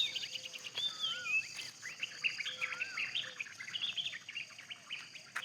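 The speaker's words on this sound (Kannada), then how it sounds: "ಪಕ್ಷಿಗಳ ಕಲರವ ನೋಡಿ ಎಷ್ಟು ಚೆನ್ನಾಗಿ ಬರ್ತಾ ಇದೆ" Birds chirp and tweet outdoors in a place where peacocks roam, with many overlapping calls and whistles and a steady insect-like hiss behind them; no one speaks.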